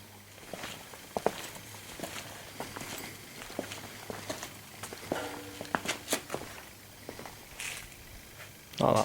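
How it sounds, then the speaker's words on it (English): Footsteps on uneven ground in a graveyard at night, irregular crunching steps, some faint and some closer, over a low hum, ending in a louder thump. "Sorry, I just heard footsteps behind me."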